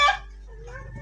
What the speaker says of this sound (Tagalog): Si Ate Alpa yung manok.